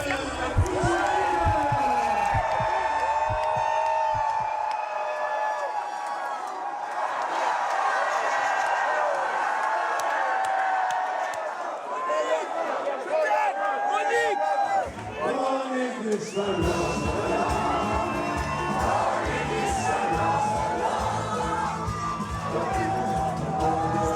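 A large crowd cheers, whoops and shouts continuously around a bar owner riding a 3-metre-high horse through the streets of Lille, a dense festive roar with voices and music mixed in.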